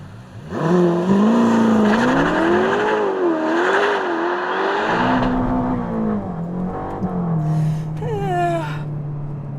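A Ferrari Amalfi launches hard under launch control, its engine note climbing loud and close through rising revs, dipping at a gear change, then pulling on with a steady roar and a brief high whine near the end.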